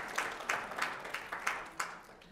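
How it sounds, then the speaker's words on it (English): Faint, light applause from an audience at a horticultural sciences department gathering: a thin scatter of evenly spaced claps, about three per second, with no talking over it. "Big round of applause for them."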